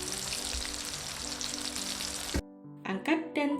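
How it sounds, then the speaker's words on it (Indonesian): Dory fish pieces coated in oats hiss and crackle loudly as they fry in hot oil, then the sizzle cuts off sharply and a few short bursts of spitting follow. "Masukkan ikan dori 1 persatu ke dalam minyak"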